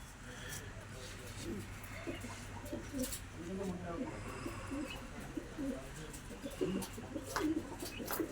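Pigeons kept by a breeding fancier, including a prize-winning hen from a racing line, coo softly in low repeated bursts amid a busy loft murmur, with someone talking over them throughout.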